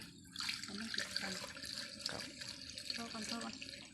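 Water running from a tap into a sixteen-litre tank, a close splashing, gurgling flow with bubbly trickles and small drips throughout, fairly quiet, with faint background voices.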